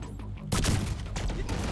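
Mortar explosions go off in the video game The Division 2 as a sudden loud burst of rumbling blasts with crackling debris that keeps rolling after the first hit.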